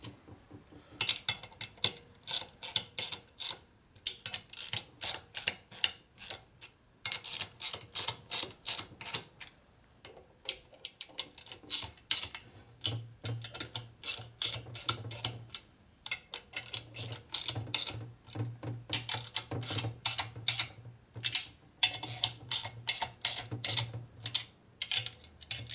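A ratchet tightens bolts on a 1965 Harley-Davidson panhead 74ci FLH motor during a rebuild, giving repeated close bursts of quick, crisp clicking with short pauses between strokes and a faint low hum in the second half.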